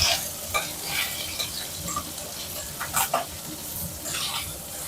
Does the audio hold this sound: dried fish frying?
yes